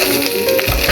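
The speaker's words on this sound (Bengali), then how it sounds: "হয়ে গেছে ডিম ভাজা" An egg frying in a pan in a home kitchen gives a brief, close, steady sizzle.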